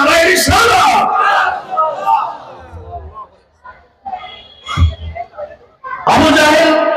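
A crowd at a religious gathering about the Prophet's night journey roars a loud slogan in unison, once at the start and again at the end, with someone speaking between the bursts.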